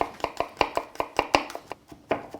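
A knife finely chops a peeled garlic clove with its germ removed, about a dozen quick, crisp strokes in a rapid, slightly uneven rhythm, close and alone.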